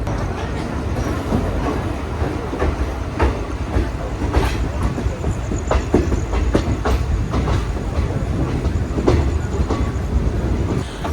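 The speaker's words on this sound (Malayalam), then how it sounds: "നമ്മൾ നേത്രാവതി പാലം കയറിക്കൊണ്ടിരിക്കുകയാണ്." West Coast Superfast Express train rolling onto the Netravati bridge between Mangaluru and Kasaragod, a steady loud rumble with repeated clickety-clack wheel beats heard from inside the coach throughout.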